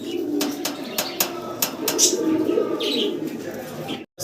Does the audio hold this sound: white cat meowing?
no